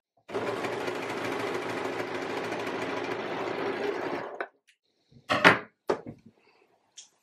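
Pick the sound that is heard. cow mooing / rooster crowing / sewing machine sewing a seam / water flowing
sewing machine sewing a seam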